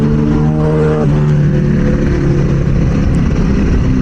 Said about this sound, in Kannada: ಒಂದು ಬೈಕ್ ಬರ್ತಿದೆ.